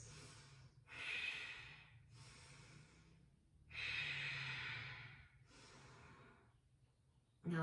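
Deep ujjayi breathing during a yoga twist, slow audible breaths alternating inhale and exhale with a soft throaty hiss, close to the microphone and fairly quiet, about four breaths without talk.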